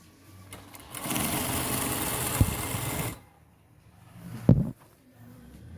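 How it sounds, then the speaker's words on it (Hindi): Sewing machine stitching down the centre of a stretched elastic band on a shalwar waistband, a two-second burst of fast motor whirring, then quiet handling and a brief knock. "देखें इलास्टिक के सेंटर में मैंने एक सिलाई लगानी है इस तरह से खींच के"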